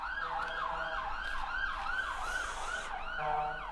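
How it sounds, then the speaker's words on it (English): Emergency sirens wail in a steady rising-and-falling pattern, fairly close, with road traffic rumbling underneath. "Wait for the sirens to go past."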